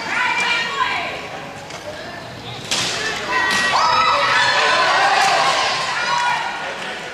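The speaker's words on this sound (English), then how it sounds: "And they got a big crowd here right now." Crowd of Michigan Mustangs fans fills an arena at a 2008 PowerHockey Cup hockey game against the Calgary Selects, a steady loud roar with sharp thuds and cheers swelling midway while a commentator talks over it.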